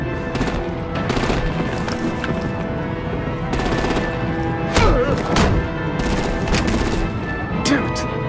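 Artillery and automatic gunfire rattle in bursts during a Batman: The Enemy Within action scene, loud and repeated over a busy background with occasional voices.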